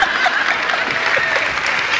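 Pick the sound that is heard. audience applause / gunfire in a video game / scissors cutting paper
audience applause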